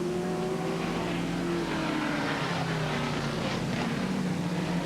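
Holden Commodore sport sedans race at Pukekohe in 1988, engines droning and shifting pitch together as they run close, a continuous mid-distance roar with no voices.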